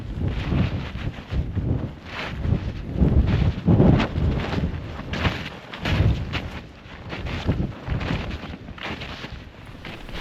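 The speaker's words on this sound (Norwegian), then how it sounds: "Det kommer noen skikkelig vindkast" Strong wind gusts buffet a microphone outdoors in the mountains in the late evening, a loud, continuous roaring rumble that surges and eases in waves throughout, with no voices.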